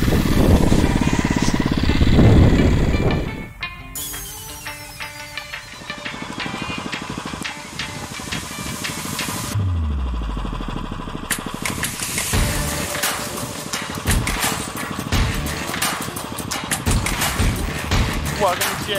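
Small motorized bicycle engine buzzing while riding along an old bike trail, a steady close drone that shifts pitch as the rider changes speed, with a brief lull partway through.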